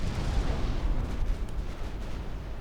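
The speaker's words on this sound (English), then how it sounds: "Oh, and their torpedoes just blew up." Torpedoes blowing up in the naval strategy game Ultimate Admiral Dreadnoughts give a continuous, deep, rumbling boom that rolls on steadily with no separate sharp cracks.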